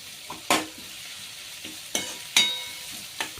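An onion, tomato and coriander mixture for egg pulao is stirred in a pan, giving a few sharp scrapes and clinks over a faint, steady sizzle.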